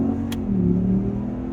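A Ram Rebel truck with a Vararam intake runs its engine with a steady, deep, throaty drone. The engine note holds at a constant level for the whole moment with no talk, and one brief sharp click comes near the start.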